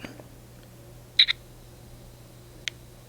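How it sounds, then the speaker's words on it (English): The old Papershoot camera fires its shutter once, a tiny double-edged click heard close and alone over a faint steady hum. A much fainter tick follows about a second and a half later. "you got that one little click, that one little noise"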